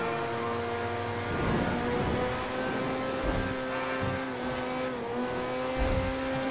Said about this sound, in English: let's see what will be the top speed on this car.